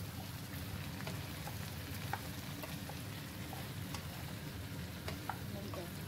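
Cut pumpkin pieces are stirred in a pan over a low gas flame, giving a soft, steady sizzle with faint scattered scraping ticks and no voices.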